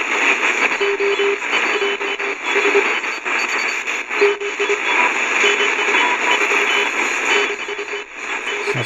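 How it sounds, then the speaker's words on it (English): Shortwave band on an Eton FR-200 portable emergency radio carries a steady on-off keyed CW Morse tone over dense hiss and static, continuous and moderately loud. "Sounds like a bit of CW there."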